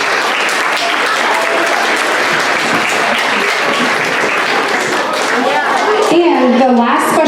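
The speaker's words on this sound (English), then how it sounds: "let's give these boys and girls a big round of applause as they exit the stage" Sustained audience applause as children leave the stage at a school awards ceremony, a steady dense wash of clapping with cheering and voices rising near the end.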